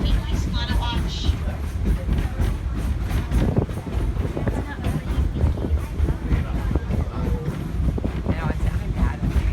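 Steady low rumble of the Wildlife Express train at Disney World rolling along tracks, continuous and fairly loud, with a voice talking over it and some wind noise.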